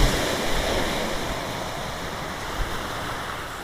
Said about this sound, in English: So we're probably going to get some biggish waves